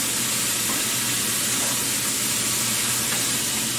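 Chicken stir fry with ginger paste sizzling in a pan as it is stirred, a steady, dense hiss with a low hum underneath, continuous and fairly loud throughout with no talking.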